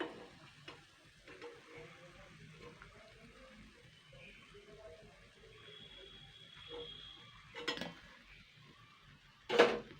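Pumpkin flower fritters in batter fry in hot oil with a soft, steady sizzle, broken by a few light clinks of utensils and a sharp metallic clatter near the end.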